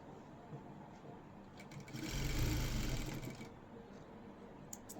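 A sewing machine runs in one short burst of stitching on a blouse, rising from a quiet room tone, holding for about a second and a half, then stopping.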